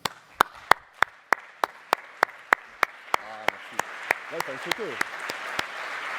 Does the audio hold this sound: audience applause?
yes